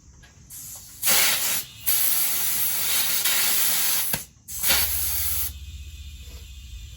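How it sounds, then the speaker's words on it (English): An air hose fills a tire on a Cub 122 with loud, close bursts of hissing air broken by short pauses as the nozzle is reseated, and a softer steady hiss at the end. "now I'm going to get air put into our tire"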